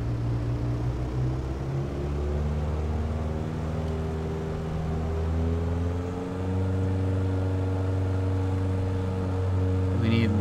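Edgley EA-7 Optica piston engine starting and running in Microsoft Flight Simulator, a steady loud droning hum with strong harmonic tones that shift in pitch as power changes, continuous throughout with voices faintly under it.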